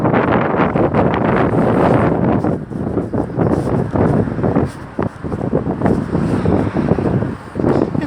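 Strong wind buffets a microphone while someone walks outdoors in Fredericton. It makes a loud, continuous roar that rises and falls in gusts, with one brief lull midway.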